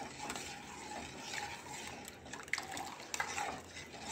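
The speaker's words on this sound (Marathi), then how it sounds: "शिजेपर्यंत हलवत राहायचं आहे" A spoon stirs kheer in a pot on a stove over high heat, making a steady, close scraping and swishing with a few light metallic clinks, fairly faint and without talk.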